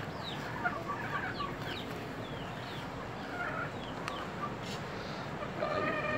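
A rooster clucks in short, soft bursts with a few higher calls, set against steady background noise. No one speaks during it.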